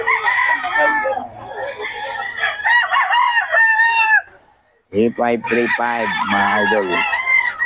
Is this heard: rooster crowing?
yes